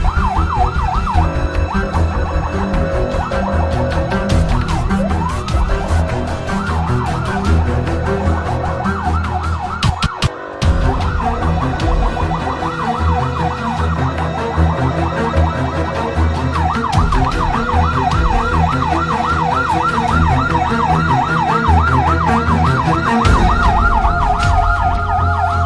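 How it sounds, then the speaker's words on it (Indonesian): Fire truck siren wails continuously and loudly while the truck rushes to a fire in the Duren 3 area, its rising and falling tone sweeping steadily over engine and traffic noise, briefly cutting out midway. "truk damkar yang sedang terburu-buru menuju lokasi kebakaran di wilayah Duren 3"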